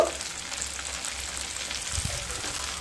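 Ginger paste, chili, turmeric and cumin powders fry with a splash of water in a pan, giving a steady close sizzle and bubbling hiss with a faint utensil knock midway.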